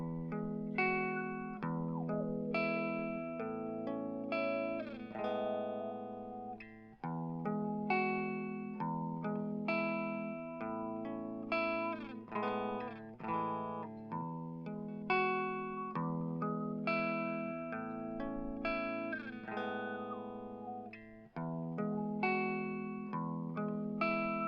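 Electric guitar riff with effects processing, chords and picked notes repeating in a steady loop while an EQ band sweeps across it, fairly quiet and unaccompanied.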